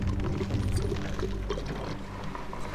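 Water rushing and pouring steadily in a video game as it fills to raise a bridge, a dense continuous gush that stays loud and even throughout.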